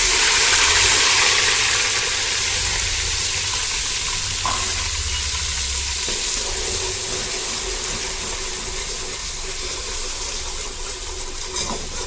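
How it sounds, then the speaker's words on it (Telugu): Onion paste sizzling and frying in a pan for a chicken gravy, a loud steady hiss that eases slightly over time with occasional stirring clinks. "ఇప్పుడు ఇది ఉల్లిపాయ పేస్ట్ వేస్తున్నాను."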